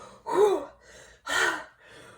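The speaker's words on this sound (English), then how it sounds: "Jimmy flopped to the ground, panting." A person pants hard after exertion, with two loud, close gasping breaths separated by quieter exhales, heard alone without speech.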